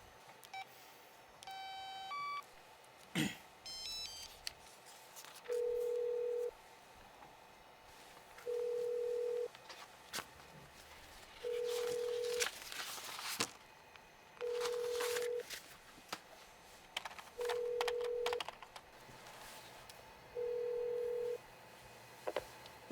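A telephone dialing tones at the start, followed by a steady repeating ringback tone, six evenly spaced rings over a faint room background with no talking.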